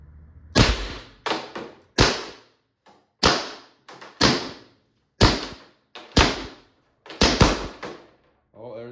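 A Valken M17 less-lethal launcher fires about a dozen sharp, loud pneumatic shots in an irregular close-range rhythm as its air bottle pressure runs down, each crack trailing off in a short decay.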